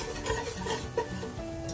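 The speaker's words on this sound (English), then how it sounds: "Keep stirring constantly as you don't want the flour to burn." Flour is stirred in a pan for a roux while making mac and cheese, with soft scraping strokes and light clinks of a utensil over a low sizzle, close and quiet.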